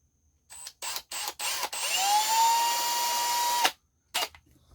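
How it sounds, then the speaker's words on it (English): A power drill bores out a hole while fitting a Victron Color Control GX generator auto-start setup, with a few short bursts before one sustained, rising whine that stops abruptly, then a last brief burst, close and fairly loud. "we got a drill. Drill this one out right here."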